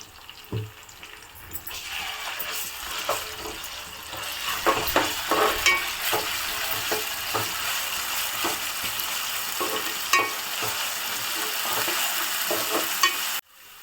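Beans frying in a pan with curry leaves and ginger-garlic paste, a steady crackling sizzle with scattered pops and stirring scrapes that swells after a couple of seconds and continues, then cuts off abruptly near the end.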